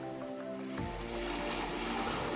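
Calm sea waves at Pantai Harlem in Jayapura, Papua wash in as a steady, broad surf wash. The sound grows fuller partway through and continues with no voices.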